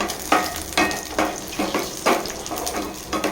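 Onions and chillies sizzle while being roasted in a pan for onion chutney, with rhythmic stirring scrapes repeating every half second over steady frying hiss, close and moderately loud, with no talking.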